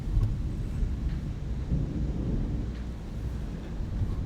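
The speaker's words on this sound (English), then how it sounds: "Wow, it is storming" A heavy thunderstorm outside, with a continuous low roar of wind and rain and faint rumbling of thunder filling the whole stretch. No one speaks.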